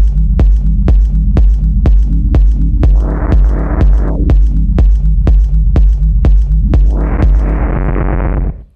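A techno rumble kick built in FL Studio with quantized distortion, loud steady four-on-the-floor thumps under a droning low rumble, with bursts of noisy hiss swelling in between hits.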